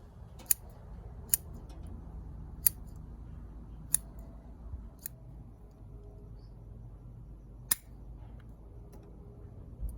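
Scissors trimming the roots of a Hinoki cypress bonsai, giving about half a dozen crisp, isolated snips spaced a second or two apart, close-up over a quiet room with low background hum.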